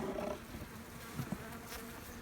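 Honeybees buzzing around a small hive with a low bee count during cool, windy weather, a steady soft drone with no talk.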